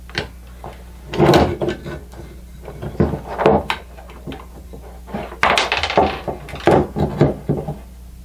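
An old router's housing being pulled apart after its screws are removed, giving a series of irregular plastic and metal clunks, scrapes and knocks at close range, with quiet gaps between bursts and no speech.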